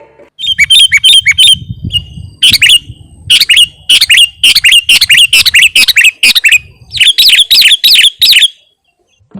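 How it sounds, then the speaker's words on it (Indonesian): A sooty-headed bulbul, the cangkurileng or kutilang songbird, sings loud, close, bright repeated phrases of rapid chirping notes in clustered bursts with brief pauses, heard clearly on its own. "Cangkurileng adalah nama seekor burung yang suaranya merdu dan mahal harganya."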